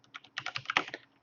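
Rapid clicking keystrokes on a computer keyboard as a date is typed into a form field, a quick uneven burst of close, crisp taps with no talking.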